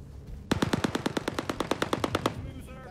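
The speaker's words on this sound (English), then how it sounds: "That's gunfire." A rapid burst of automatic gunfire in the video game Star Citizen: about eighteen sharp, evenly spaced shots over two seconds, loud and close, then a short echoing tail.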